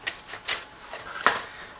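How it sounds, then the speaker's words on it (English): A plastic bag holding gray plastic sprues from an Eduard 1/72 MiG-21PFM scale model kit is pulled open, giving a few short, close, dry crinkles and rustles. "Now I'm opening the second plastic bag, which is actually dedicated to gray plastic sprues."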